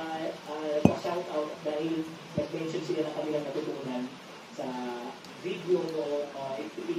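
Steel bearing balls are set one by one into a 6301 bearing, making sharp metallic clinks and taps while a person keeps talking over them.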